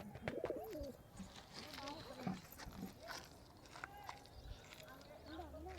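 Crested, feather-footed pigeons coo softly inside a nest box lined with grass, their low, wavering calls repeating faintly beneath a person speaking nearby.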